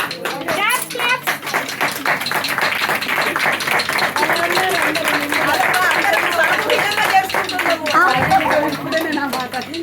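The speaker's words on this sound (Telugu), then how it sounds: "మీరు చప్పట్ల క్లాప్స్ అండి" Guests clapping at a Srinivasa Perumal thirukalyanam wedding ceremony in a home in Markapuram, a continuous patter of hands mixed with voices and chatter throughout.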